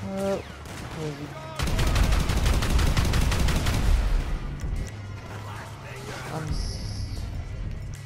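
Shotgun gunfire in Grand Theft Auto V during a chaotic battle, with a dense run of loud blasts for a few seconds among crashes and game noise; a player talks over parts of it.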